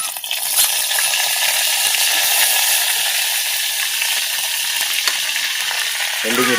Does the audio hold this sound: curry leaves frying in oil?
yes